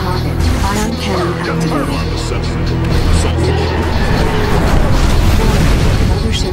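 A deep, rumbling nuclear missile explosion from the game Command & Conquer 3: Kane's Wrath booms out and rolls on for a few seconds while a voice says "Nuclear missile launched" over it.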